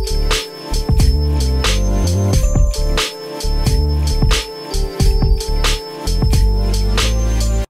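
Swung drum groove programmed in Maschine, punchy kicks and snappy hits falling in a loose shuffled pattern with sustained tonal layers, loud and continuous across several bars with no talking.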